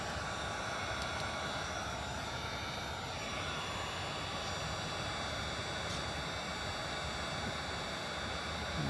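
A heat gun blows steadily while vinyl lettering is peeled from a fiberglass boat hull, a constant airy rushing hiss with a faint whine, fairly quiet and unbroken throughout.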